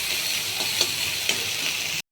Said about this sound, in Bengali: আদাটা একটু ভালো ভালো করে ভেজে নেব।